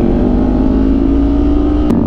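Big bike motorcycles rumbling loudly close around the rider in a group of ten, a steady, dense engine drone with a brief sharp rev near the end.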